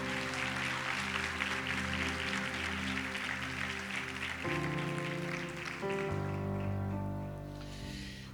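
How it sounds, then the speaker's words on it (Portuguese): A church congregation claps and applauds over sustained organ or keyboard chords, the clapping steady and fairly loud before tapering off. "dar uma salva de palmas bem alegre ao nome de Jesus"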